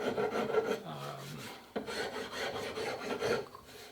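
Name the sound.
fine rasp filing a wooden shotgun stock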